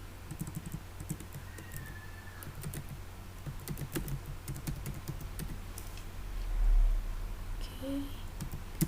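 Quiet computer keyboard typing while entering data mining code, soft irregular key clicks spread across the clip with scattered faint taps, no voices.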